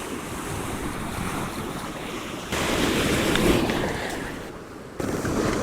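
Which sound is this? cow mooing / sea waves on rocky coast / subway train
sea waves on rocky coast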